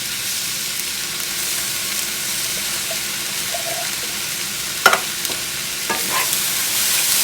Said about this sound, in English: And stir all that together.